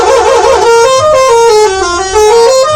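An Indonesian bus blasts its "telolet" musical horn, a loud, close, continuous melodic honk that steps through several pitches over a few seconds.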